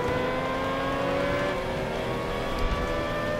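A 1963 VW Beetle accelerating hard in a drag race in Forza 5, a loud sustained engine drone with a steady harmonic whine, close and continuous without talk.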